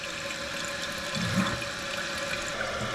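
A Toto toilet tank refills through a newly replaced valve, a steady rushing hiss of water running continuously with faint bubbling, close and moderately loud.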